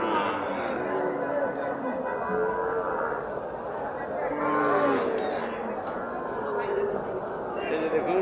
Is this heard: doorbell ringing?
no